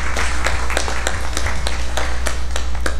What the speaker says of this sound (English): ask that we give them a collective round of applause